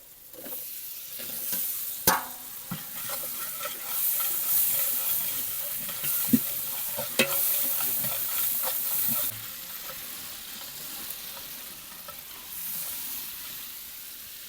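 Tomatoes frying and being stirred in a pan for chicken masala, a soft continuous sizzle punctuated by several sharp scrapes and knocks of the spoon, steady and moderately quiet throughout.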